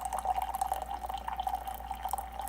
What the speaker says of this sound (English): The water goes directly down into the cup